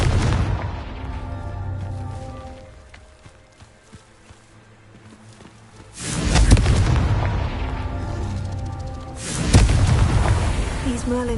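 Two heavy, booming blasts from the Confringo fire spell erupt in the video game Hogwarts Legacy, each a loud broadband burst that rumbles and fades, following a quieter stretch of background game sound.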